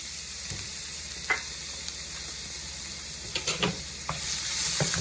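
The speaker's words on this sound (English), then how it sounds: "So oil is hot, so I'm going to use 1 tablespoon ginger garlic chop." Chopped ginger and garlic sizzle in hot vegetable oil in a pan, a steady close hiss with occasional stirring scrapes that grows a little louder toward the end.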